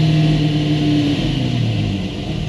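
A 1968 Ford GT40 Mk1 engine revving, a loud, close, deep roar whose pitch sweeps up and then drops away, with no talking.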